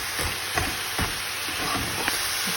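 Blue crab fries with onion in a hot pan, giving a continuous sizzling hiss broken by occasional stirring clatters. The cooking is heard up close and at a moderate level, with no talking over it.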